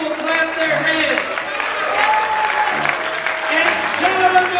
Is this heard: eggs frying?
no